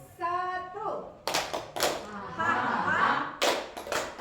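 Group hand claps in a call-and-response clap chant at a teacher training session, a few sharp separate claps mixed with voices chanting and talking.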